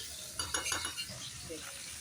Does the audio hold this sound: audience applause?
no